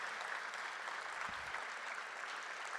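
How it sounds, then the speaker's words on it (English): A conference audience at an event in London claps steadily throughout, a dense, even wash of applause from a sizeable crowd in a hall. "give a big round of applause to Kiran and his team for putting together such an amazing ATS"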